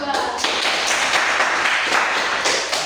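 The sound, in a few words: applause for group 2 in class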